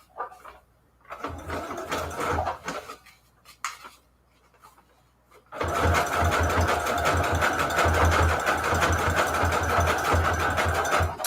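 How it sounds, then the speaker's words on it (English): A sewing machine stitches in short starts and stops, then runs continuously at speed with a rapid mechanical whir and rhythmic clatter. "keep the sewing machine going down the middle"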